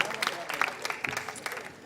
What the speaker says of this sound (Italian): fateglielo l'applauso a Francesco